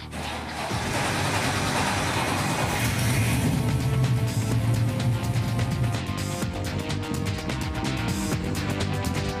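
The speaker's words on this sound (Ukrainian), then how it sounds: "Ви тільки послухайте, яка потужність у цього спорткара." A sports car built by an Istanbul designer as part of a limited high-speed series runs its engine steadily at close range, a loud continuous mid-low rumble with a deeper throaty swell partway through, no voices.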